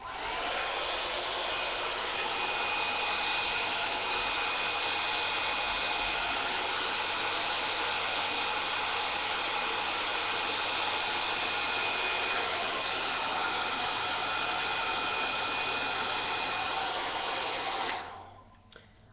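A Babyliss Big Hair rotating hot air styler runs with a steady, loud whooshing blow and a faint high whine, holding constant for about eighteen seconds before switching off abruptly.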